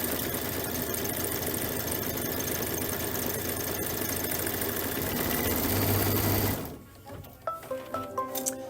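A sewing machine runs continuously at steady speed anchoring a belt bag strap, a dense close mechanical whir that cuts off abruptly, leaving faint handling sounds.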